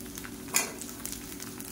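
Garlic browning in a pan as a handful of small shallots goes in, giving a short, moderate sizzle with one brighter burst over a steady low hum.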